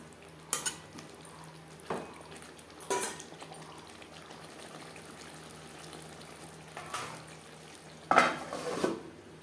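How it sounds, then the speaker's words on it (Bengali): Potatoes being mixed with salt and turmeric in a pan, heard as a few separate spoon scrapes and clinks against the pan over a quiet background, the loudest near the end. "লবণ হলুদ আলুর সাথে বেশ ভালো করে মিক্সড করে দেবো।"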